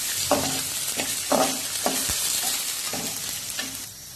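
Curry leaves sizzling in hot oil for a horse gram dal rasam, with a dense frying hiss broken by several sharp spoon-on-pan stirring clacks.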